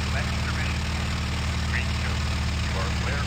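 Continuous droning engine of a fighter aircraft in the IL-2 Sturmovik 1946 flight game, steady and loud with no breaks, faint chirping tones drifting above it.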